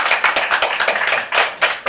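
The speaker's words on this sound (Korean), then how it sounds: "우리 박수로 하나님께 영광 한번 돌리십시다" Church congregation claps together in a quick, loud, rhythmic pattern of sharp, close hand claps, with voices faintly mixed in.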